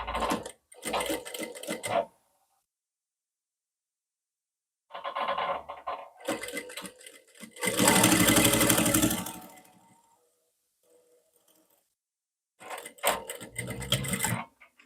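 Sewing machine stitching a dart on a blouse front: loud mechanical whirring in several separate bursts, the longest and strongest in the middle, with silent pauses between runs as the fabric is repositioned.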